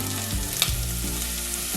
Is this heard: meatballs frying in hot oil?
yes